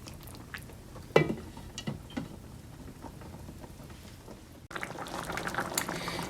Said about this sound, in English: Now I'm just going to let this cook for about 5 minutes